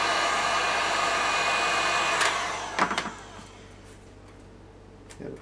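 Heat gun blowing a steady broadband hiss at full strength while softening glue on the back of a Batsuit cowl, then cutting off partway through and leaving a quieter room with a few faint knocks.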